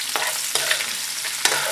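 Sliced onions, green pepper and red chili flakes cook in a pan with a steady close sizzle, broken by a few short scraping stirs and no talking.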